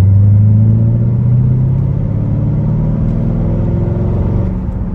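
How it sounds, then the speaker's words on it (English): Chevrolet Corvette C5 with its LS1 V8 engine floored, a loud deep rumbling roar with rising harmonics that holds strong and eases slightly near the end, no voices over it. "You floor this car and the sound is just amazing"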